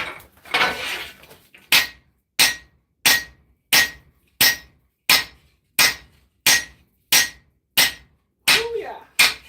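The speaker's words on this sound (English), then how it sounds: "I'm just forging away, making this beast of a weapon." A hammer pounds a large steel sword blade during forging: a loud, close series of about twelve evenly spaced clanging blows with a bright ring, preceded by a short stretch of rough scraping noise.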